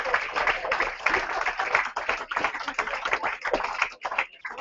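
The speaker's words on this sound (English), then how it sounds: "So can we give him a posthumous nice big round of applause" A modest crowd claps for a new rugby signing at a Fev Rovers squad number announcement, producing a busy, uneven patter of close hand claps that thins out toward the end.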